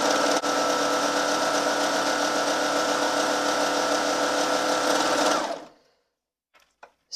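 A sewing machine stitches a rolled hem on silky satin, a loud, steady, close mechanical whir that runs continuously for about five seconds and then stops, followed by near silence and a couple of faint clicks.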